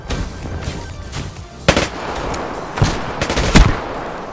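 Black Ops 3 gunfire in a hardcore team deathmatch on PS4, with several loud, crackling bursts of close shots over a steady rumbling background of in-game noise.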